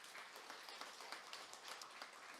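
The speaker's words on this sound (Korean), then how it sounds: "하나님께 우리 감사와 영광의 박수 올려드립니다." A church congregation applauds during a Sunday worship service, a dense, steady patter of many hands clapping at a moderate distance, continuing throughout without voices.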